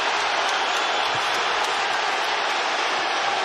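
A boxing arena crowd roars and applauds in a dense, continuous wash of cheering and clapping, loud and unbroken with no distinct voices standing out.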